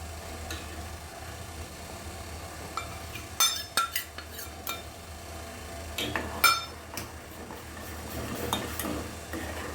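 Stirring a thick homemade soap mixture with aloe vera and potato juice added, giving soft scraping and clinking of a utensil against a bowl, with a few sharper knocks midway amid low background hum.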